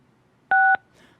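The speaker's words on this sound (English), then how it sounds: "If you will please follow the prompts to unmute by pressing *6." A single telephone keypad tone from a press of *6 to unmute on a public meeting's phone line: one loud, steady two-note beep lasting about a quarter second, alone over a quiet line.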